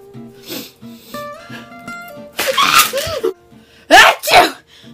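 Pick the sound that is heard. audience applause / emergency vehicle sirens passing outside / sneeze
sneeze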